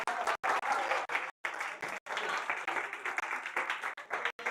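Crowd applause and clapping at a laser tag tournament, dense broadband clapping in short bursts separated by brief gaps, fairly loud and close, with no talk over it.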